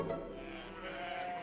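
Sheep bleating continuously in the cartoon Postman Pat, a drawn-out, wavering call over a steady low rumble, fairly close with no talking.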